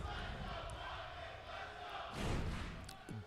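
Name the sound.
crowd rumbling at esports finals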